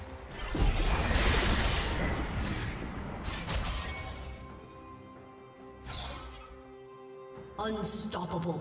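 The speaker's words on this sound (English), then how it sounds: "Red team's turret has been destroyed." A turret being destroyed in a League of Legends match, a Zed versus Kayle mid-lane game, comes through as loud crashing, shattering bursts with whooshes, and an announcer-style voice talks over it.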